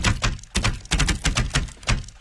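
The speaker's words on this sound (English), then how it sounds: "That sounds like a typewriter." Rapid clicking like a typewriter, a run of sharp, close, evenly spaced taps in quick bursts, loud and dry with no voices during the sequence.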